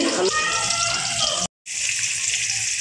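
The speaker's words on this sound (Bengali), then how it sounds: "মাছটাকে আমি একটু ভালো করে ধুয়ে নিই, লবণ দিয়ে কষিয়ে ধুয়ে নিই।" Water runs over taki fish as it is washed, a near, splashy gush of tap water with a voice talking over it, stopping briefly before the flow resumes.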